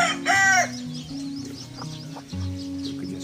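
Chickens cluck and a rooster crows loudly near the start, followed by steady clucking and murmuring from a farmyard flock, close and continuous.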